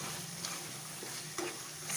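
Liver sizzles in a pan with fried onions and tomatoes, a faint, steady frying hiss with a couple of soft stirring clicks, close and quiet, with no talking.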